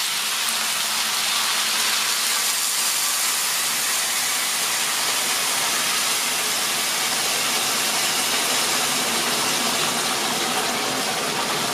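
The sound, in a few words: water poured into hot pot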